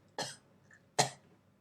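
A person coughs twice, about a second apart, close to the microphone in an otherwise quiet room. Each cough is short and sharp.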